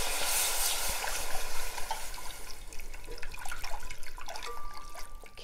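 Broth poured into a roux in a pan, giving a steady close splashing pour that thins into softer trickling and bubbling, with a light scrape near the end.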